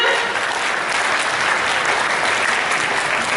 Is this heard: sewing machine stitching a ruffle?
no